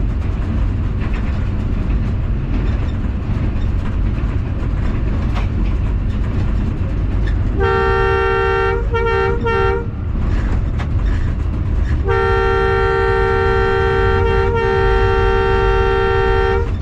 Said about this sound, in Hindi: माइल ट्रेन है।